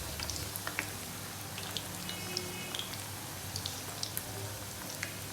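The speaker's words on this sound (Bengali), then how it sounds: "তেলটাকে গরম করে তারপর এর মধ্যে মিষ্টিগুলো দিচ্ছি।" Semolina sweets fry in hot oil over a low flame, giving a soft, even, rain-like crackle with scattered small pops, close and steady throughout.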